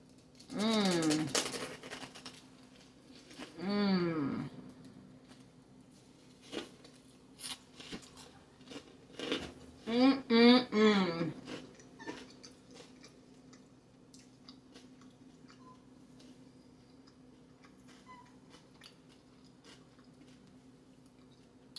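Close, crisp crunching bites and chewing of toasted garlic bread topped with tomatoes, sliced steak, avocado and horseradish come in clusters, with brief vocal sounds between and quieter stretches later.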